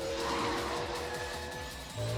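A car drifts in Yakuza 5 with a loud, rhythmic engine drone and a faint tire squeal that rises at the end, without talk.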